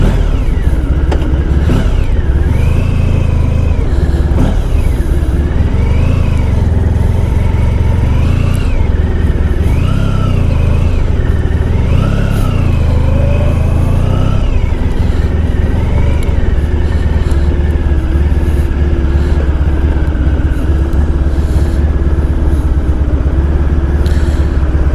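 A 1994 Honda ST1100 motorcycle out on a ride, its engine droning steadily and close with repeated rises and falls in revs as it pulls through gears, wrapped in constant wind rush and no talking.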